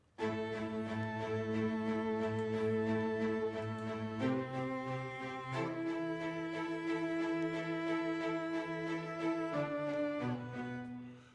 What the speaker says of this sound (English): The Amati Viola, and it sounds like this.